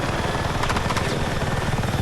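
A helicopter flies in the video game Battlefield 6, its steady rotor chop and engine drone loud and continuous, with a brief patch of sharper rhythmic thumps partway through and no talking.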